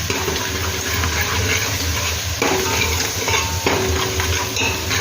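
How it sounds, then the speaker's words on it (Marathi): Ginger garlic paste sizzling and frying in a hot pan while being stirred, a loud continuous crackle with scraping stir strokes, close up and with no talking. "त्यानंतर ही आलं लसणाची पेस्ट टाकते. आलं लसणाची पेस्ट चांगली शिजवून द्यायची"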